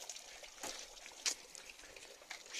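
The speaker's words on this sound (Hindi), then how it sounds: "ये डाला है गाइस अभी हमने क्लिनिक प्लस वाला पानी" Water mixed with Clinic Plus shampoo is poured onto a car during a wash in the Himalayas, giving soft trickling and splashing with a few sharper spatters against a quiet background.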